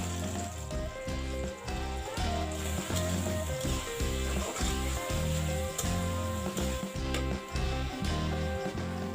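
Onions frying in oil left over from frying potatoes, a steady sizzle running under loud rhythmic background music for the whole stretch.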